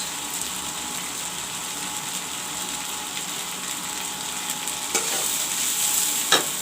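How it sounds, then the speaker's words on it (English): Sprouted moong frying in a pan with salt, saffron and turmeric, a steady close sizzle with stirring scrapes throughout and a couple of sharper clinks near the end. "I will let this fry nicely."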